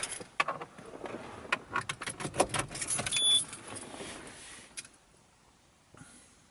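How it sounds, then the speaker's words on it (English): Keys going into the ignition of a Citroen C3, a close run of metallic jingles and clicks with light rustling that fades into near quiet at the end; no talking. "I'll put the keys in the ignition first."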